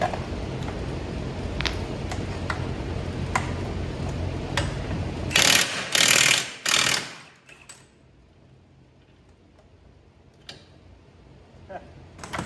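A wheel hub assembly on a Toyota FRS is unbolted with a ratchet: sparse, sharp ratchet clicks tick close by, then a few loud bursts of mechanical noise, after which things fall quieter with only occasional clicks.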